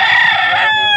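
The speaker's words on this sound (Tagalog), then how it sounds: "Manok sa amin ito." A rooster at a Pampanga pet market gives one loud, close crow lasting about a second.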